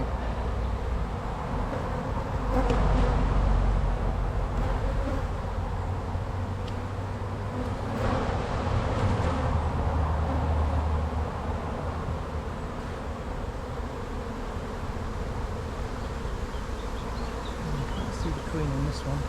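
A swarm of angry bees buzzes densely and continuously around an abandoned hive under inspection, a close, steady drone lasting the whole time with a few louder swells.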